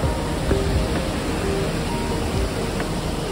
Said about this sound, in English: And then there is a waterfall. Lots of waterfalls.